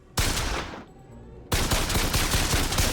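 Gunfire in the video game Bioshock Infinite on PC, with dense rapid bursts of shots filling the opening second, a short lull, then another sustained volley of loud repeated shots.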